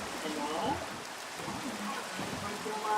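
Rain falls steadily outdoors in a soft continuous hiss, with a voice speaking faintly over it.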